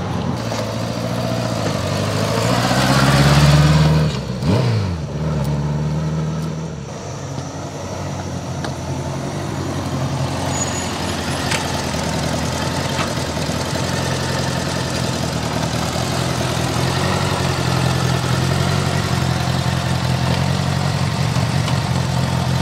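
A 1985 Honda Goldwing GL1200 motorcycle engine runs steadily, with a brief rising surge of acceleration near the start before settling into a continuous, fairly loud drone.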